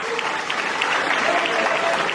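A crowd at a formal event applauds, a dense, steady wash of clapping from many hands, loud and continuous throughout.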